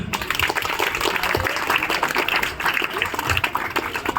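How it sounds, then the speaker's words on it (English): Dense, sustained applause from a college audience honoring the principal at a welcome day event, many hands clapping steadily and loudly throughout with no pause. "Let's keep clapping."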